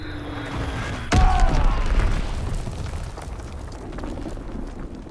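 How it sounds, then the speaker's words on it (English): A bomb explodes in the Call of Duty WWII video game, a sudden heavy boom that rolls into a long, rumbling decay over ongoing battle noise. "Enemy bomb incoming. Get to cover."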